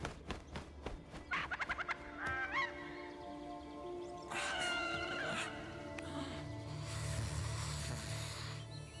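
Bird calls in the Lord of the Rings: Gollum game, a quick series of sharp honking squawks followed by longer harsh cries over a low background rumble.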